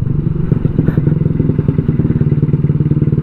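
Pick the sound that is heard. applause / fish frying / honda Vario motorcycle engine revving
honda Vario motorcycle engine revving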